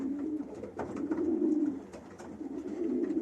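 Pigeons cooing steadily in a hen keeper's loft, a continuous low throaty murmur from several birds close by, with faint scratches and shuffling on top.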